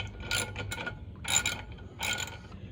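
A ratchet tightens bolts on a jet ski in three short bursts of clicking and rasping, close and fairly faint.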